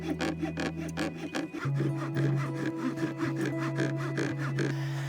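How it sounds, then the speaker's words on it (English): A handsaw cuts through wood outdoors on open public land, its rapid back-and-forth strokes rasping steadily and close for several seconds with no talking. "Me waving around a handsaw on BLM land."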